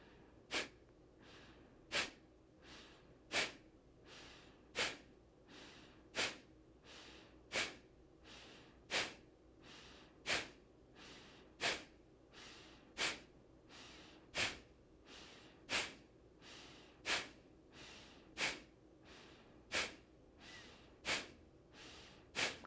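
Kapalbhati pranayama breathing: a long, even series of forceful, sharp nasal exhalations, about one every second and a half, each snort-like puff close and clear, with quiet passive inhales between them.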